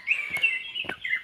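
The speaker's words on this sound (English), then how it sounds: "The birds are making noise." Small birds chirp and tweet in quick overlapping calls at an East African tea farm in the cold early morning, steady and fairly close, with no talking.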